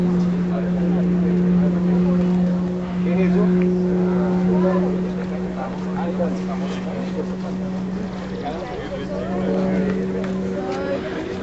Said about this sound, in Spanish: Miren esa cantidad de motos.